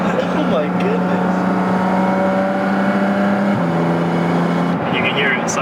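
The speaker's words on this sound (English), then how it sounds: "You can hear it sucking in the air too." Intake noise from a Porsche GT4 RS fills the cabin as the engine draws in air. A loud, sustained drone holds steady, shifts down partway through, then briefly eases before surging again.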